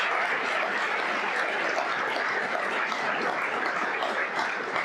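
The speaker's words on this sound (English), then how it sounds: "Another round of applause for our fantastic speakers this morning." A lecture-hall audience at a university event applauds its morning speakers with steady, dense clapping that fills the room without pause.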